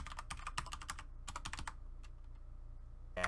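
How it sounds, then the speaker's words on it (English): Fast bursts of key clicks from someone typing on a computer keyboard, close and clear with no talking, a pause in the middle and a sharper keystroke at the end. "Type in John Smith, capitalized J, capitalized S, space dash dash"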